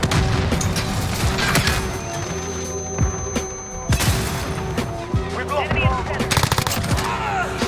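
M4A1 rifle with a legendary blueprint firing in Modern Warfare, rapid bursts of automatic gunfire punctuated by heavier booms, loud and close, with a player talking over the shooting.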